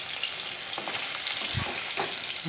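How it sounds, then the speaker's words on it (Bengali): Fish coated in salt and turmeric fries in hot oil, giving a steady close crackling sizzle with a few soft pan knocks and no talking. "নুন হলুদ দিয়ে মাছটি মেখে তেলের মধ্যে ভেজে নিচ্ছি"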